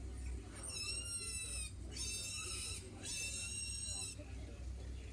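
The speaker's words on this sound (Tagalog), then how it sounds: "Bit-bit pa ang alaga nilang baboy." A pet pig oinks and squeals in three drawn-out bursts while a family is carried to safety by an army rescue boat through typhoon floodwater in Metro Manila, over a steady low engine drone.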